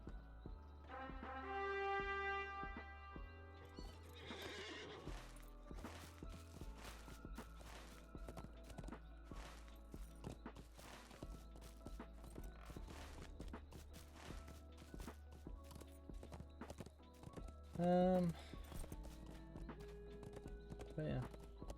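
A horse in Lord of the Rings Online gives a loud neigh near the start and again toward the end, with steady clip-clop hoofbeats in between. A player talks over the game sounds.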